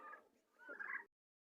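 Male turkey, a large tom kept as backyard poultry, gobbling in a loud rapid warbling burst that swells toward the end and cuts off abruptly, heard alone without talk.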